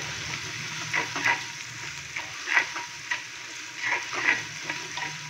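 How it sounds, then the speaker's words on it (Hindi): Ginger garlic paste sizzles in oil with browned onions for a chicken handi pulao. A steady hiss carries through, with several brief louder bursts as the mixture is stirred and pushed around the pot. "अदरक और लहसुन के पेस्ट को हल्का सा फ्राई करेंगे जस्ट 30 सेकंड के लिए।"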